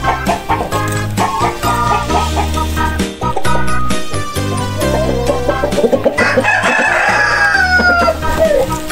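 A chicken rooster crows loudly over rhythmic background music, with a long rising call and scattered clucking.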